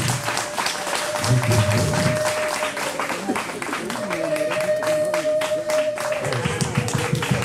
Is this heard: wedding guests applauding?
yes